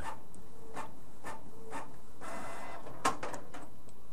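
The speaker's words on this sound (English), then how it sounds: "Sorry about the printer noise" A desktop printer runs alone in a quiet room, with repeated short mechanical passes and a brief clack near the end.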